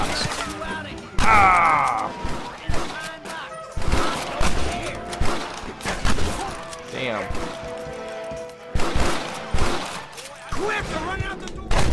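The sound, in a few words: gunfire from enemies in Red Dead Redemption video game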